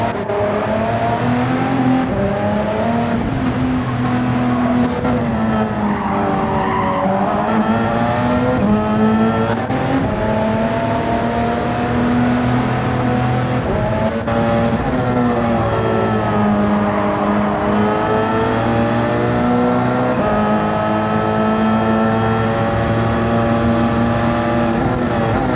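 Race cars roaring loudly and continuously at close range, engines sustained with rising and falling pitch and occasional tire squeal, no talking.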